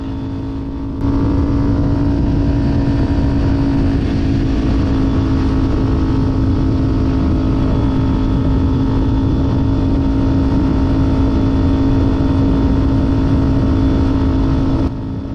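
A Kawasaki Ninja 400 motorcycle engine drones loud and close as it works up through the gears, a strong steady tone holding almost the whole time under constant wind rush, starting abruptly after a brief quiet moment.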